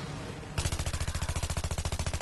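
Rapid automatic gunfire in Battlefield 3 erupts after a brief quieter stretch, a loud, steady stream of evenly spaced shots running to the end with no talk.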